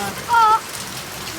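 Rain falls in a steady hiss of patter on a surface, with a brief faint tone and a voice speaking over it.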